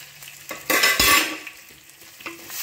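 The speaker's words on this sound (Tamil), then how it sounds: "இதை லைட்டாக ஃப்ரை பண்ணிவிட்டு அது கூட கொஞ்சம் போது ஆனியனு, அது கூட கருவேப்பிலை," Banana flower frying in a pan with onion and curry leaves, a close sizzle that swells into a loud hissing burst as ingredients go in and are stirred, then settles to a lighter crackle.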